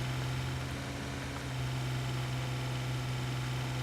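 A Massey tractor in Farming Simulator 17 idles with a steady, even low drone and a constant hum, heard alone without any talk.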